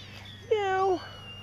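A kitten in a basket gives a single clear rising-and-falling meow, close and fairly loud, over a quiet background.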